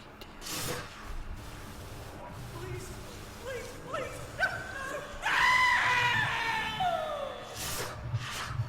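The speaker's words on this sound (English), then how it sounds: "That was a very good scream." In a horror video game, a voice-acted scream rises out of scattered game sounds, a loud strained cry swelling for a couple of seconds before trailing off.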